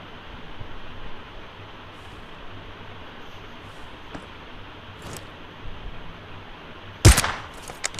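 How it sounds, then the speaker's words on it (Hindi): A single sharp gunshot lands a headshot kill in PUBG Mobile on the Sanhok map during a solo-versus-squad match. The loud burst comes near the end after a quiet, low background hum. "तो इसको तो डायरेक्ट हेडशॉट देके फिनिश ही कर देता हूँ, नॉक भी नहीं, डायरेक्ट ही किल करता हूँ।"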